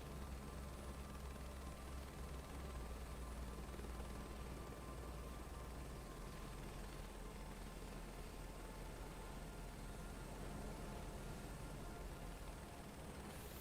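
Helicopter rotors in flight in Microsoft Flight Simulator 2024, a faint, steady low thrum and broadband whoosh that holds evenly throughout with no voices.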